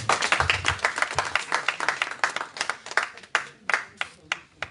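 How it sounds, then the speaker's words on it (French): Audience clapping at an artist's press conference in a café, a burst of many hands that thins into scattered, separate claps toward the end. "Je voudrais quand même vous dire de les applaudir avec eux."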